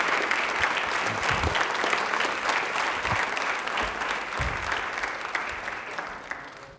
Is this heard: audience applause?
yes